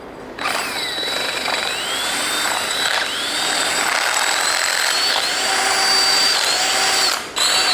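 A power drill whines continuously at close range while driving a bolt into a 1956 Chevy trunk floor, its pitch shifting as it drives in, with ratcheting mechanical chatter underneath.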